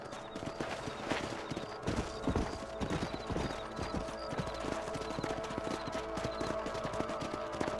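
Steady clip-clop of horse hooves trotting at a brisk, even rhythm, fairly close, with occasional faint whinnies in a busy outdoor soundscape, from the video game Red Dead Redemption.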